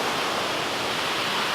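Victor Falls, a waterfall near Bonney Lake, Washington, pours straight down a cliff in a steady, loud, broadband roar that fills the whole moment without a break.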